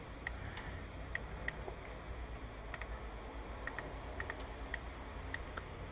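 Computer keyboard keys pressed at scattered intervals during CAD drafting work, with the Enter key struck repeatedly; faint, sparse clicks over a steady low room hum, no talking.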